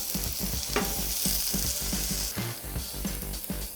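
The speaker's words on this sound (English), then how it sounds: "I'm gonna take some sauerkraut. I'm just gonna put it right on the griddle." Sauerkraut sizzles on a Blackstone griddle as a steady frying hiss while a spatula scrapes and stirs it in a quick, repeated rhythm, close and moderately loud, with no talking.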